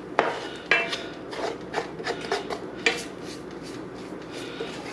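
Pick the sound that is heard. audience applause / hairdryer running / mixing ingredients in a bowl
mixing ingredients in a bowl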